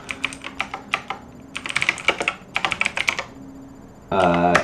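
Fingers type on a computer keyboard in quick clusters of sharp clicking keystrokes, close and clear, in uneven bursts separated by short pauses, ending with a brief voice.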